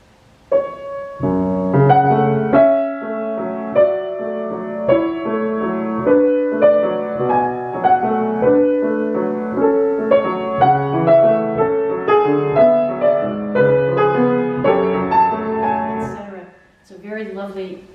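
Piano chords with an inner melody move steadily for about sixteen seconds, rich and full, then fade as a brief voice comes in at the end.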